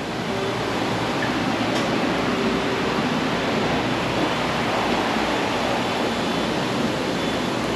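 A water pump fitted to a work machine runs loud and close, giving a steady broadband rushing hiss with a low rumble that never varies, and no talk over it.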